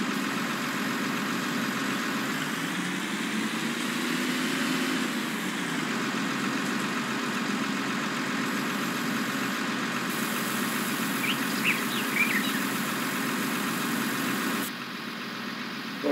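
A wheel loader idles in Farming Simulator 19 at an ore mining site, giving a steady low engine drone that hums on without a break and drops slightly near the end.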